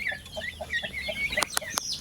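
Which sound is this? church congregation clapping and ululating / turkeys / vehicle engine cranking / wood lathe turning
turkeys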